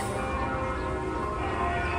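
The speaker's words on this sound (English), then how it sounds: "Sorry, the loud church bell, folks." A church bell in the Bronx, New York City, rings steadily on a Sunday, its sustained tones hanging over a dense, continuous wash of background noise with no talking.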